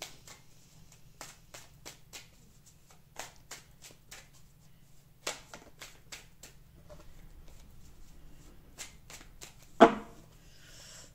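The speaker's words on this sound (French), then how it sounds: "Maintenant, on va tirer 5 cartes du tarot." Tarot cards being shuffled by hand at close range, quiet rhythmic riffles and soft slaps repeating in bursts, with one sharper card snap near the end.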